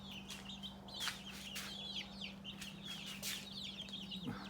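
Barred Rock and Easter Egger chicks peep and cluck in repeated short bursts close by, over a steady low hum in a dusty coop area.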